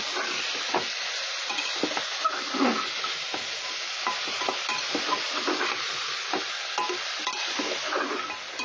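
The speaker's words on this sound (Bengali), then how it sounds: "এখন আমি ফুলকপি ভালো করে কষিয়ে নেব" Cauliflower and peas sizzle steadily while being sautéed and stirred in a pan, with a continuous frying hiss and scraping stir strokes, no voices.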